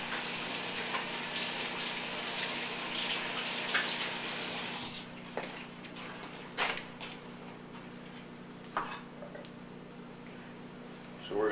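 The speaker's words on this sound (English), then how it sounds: "Fill your sink about halfway with water" Tap water runs steadily into a stainless steel kitchen sink for about five seconds, a broad close rush that then cuts off, leaving a quieter room with a few small clinks and knocks.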